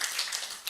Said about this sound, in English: we clap for our presenters